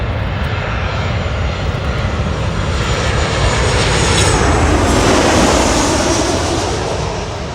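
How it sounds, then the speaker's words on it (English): Delta Airlines Boeing 737 jet landing at Los Angeles International Airport, a loud broadband engine roar that swells to a peak and then slowly fades as it passes close by. "Next we have a 737 coming over, Delta Airlines 737 coming from San Francisco"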